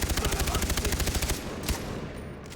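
Rapid automatic gunfire in the video game Far Cry 3 rattles in an even burst for over a second, followed by a single sharp shot and fading reverberation.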